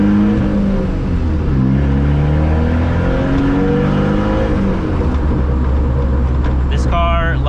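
A modified turbocharged Pontiac Solstice engine revs while driving, its loud, steady drone rising and falling in pitch, with a person talking over it throughout.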